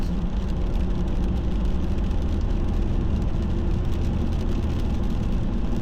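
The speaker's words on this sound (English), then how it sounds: "So we were in the truck now driving." A truck driving on a road in Minot, North Dakota, with a steady, loud low engine rumble and road noise that carries through without a break and no talking.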